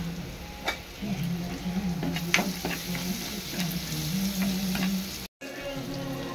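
Turmeric tips into hot, sizzling tempering oil for a raw jackfruit curry. A steady close frying hiss carries on with a few scattered ticks and scrapes, then stops abruptly for a moment near the end.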